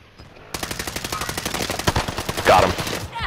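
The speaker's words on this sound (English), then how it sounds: "I can hear him shooting." Rapid automatic gunfire from an enemy in an online shooter game, a sustained burst of sharp shots at steady rhythm, fairly close, lasting a few seconds before cutting off.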